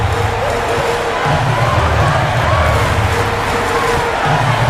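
Arena crowd noise from an NBA 2K23 basketball game, Celtics versus Lakers, late in the fourth quarter: a dense, steady hubbub of murmuring spectators with low rumbling swells, at an even loud level throughout.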